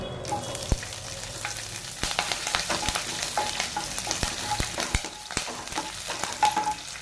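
Urad dal and green chilies frying in hot oil, a steady close sizzle with scattered popping crackles and occasional utensil taps throughout.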